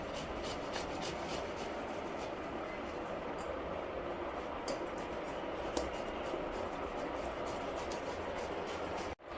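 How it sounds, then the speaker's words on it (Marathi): Potatoes being grated by hand on a kitchen grater, making a steady, quiet, close-up rasping scrape that repeats without pause, with no voices over it. "या पद्धतीने आपण आता बटाटा किसून घेत आहोत."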